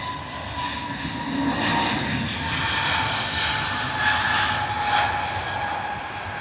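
Airbus A320 airliner jet engines at Heathrow Airport, a steady, loud broadband roar with a whining tonal edge that holds throughout and swells slightly in places.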